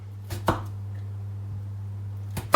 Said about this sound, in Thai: หั่นไป ชอบ แบบไหนก็หั่นไปจ้ะชิ้นเล็กชิ้นใหญ่ก็หั่นไปจ้ะ